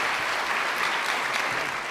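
Audience applause at a EuroPython 2018 conference lightning talk session, a steady dense clapping wash from a crowd that holds evenly for about two seconds without any voices.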